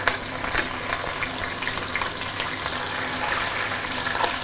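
Kampung fish that has just been flipped in a frying pan, giving a steady, dense hiss of sizzling oil with a few small pops, close and fairly loud, with no voices.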